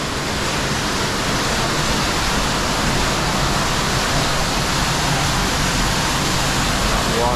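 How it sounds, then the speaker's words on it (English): A powerful forest waterfall roars in a dense, unbroken rush of white noise, loud and close, with no letup. "The waterfall is intense."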